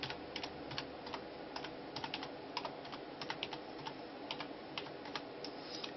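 Password being typed on a computer keyboard, a quick irregular run of light key clicks, close and fairly quiet, with no voices.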